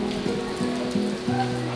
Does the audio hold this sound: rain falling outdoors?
yes